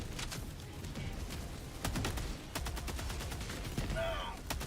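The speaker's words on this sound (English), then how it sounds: "Autocannon coming up." Autocannon in a video game firing a steady run of heavy, evenly spaced booming shots, close and loud, with other gunfire and game effects around it and no talk over it.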